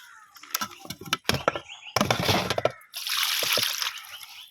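Water splashes and trickles in uneven bursts while fish are washed, pausing briefly between pours, with a longer steady rush of running water near the end.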